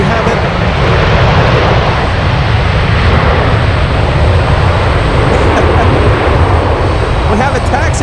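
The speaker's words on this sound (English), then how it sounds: "UPS 767 appearing out of nowhere." A UPS Boeing 767 jet at Anchorage airport, its engines giving a loud, steady broadband roar that fills the whole stretch, with people talking faintly underneath.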